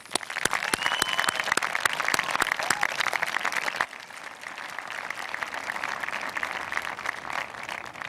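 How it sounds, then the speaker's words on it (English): Audience applause fills a graduation ceremony for South St. Paul graduates in 2006, loud and dense with sharp individual claps for about four seconds, then settling into a softer, sustained round of clapping from a large crowd. "Graduates, please join me in thanking all the people here to honor you with a big round of applause."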